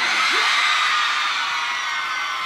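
Concert crowd of young women screaming and yelling continuously at a tenth-anniversary show, a loud dense wall of cheering sustained throughout.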